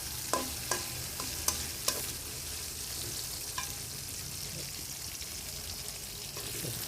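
Tomatoes stirred into hot oil in a frying pan, with a steady background sizzle and several sharp scraping clicks of a spoon against the pan near the start, easing into continuous frying hiss.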